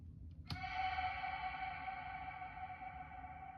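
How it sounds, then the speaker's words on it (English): A single struck tone rings out and sustains in a long, smooth reverb tail with an 11-second decay that slowly fades, shimmering harmonics lingering without any talking. "So the reverb is gonna last for 11 seconds after you hit play."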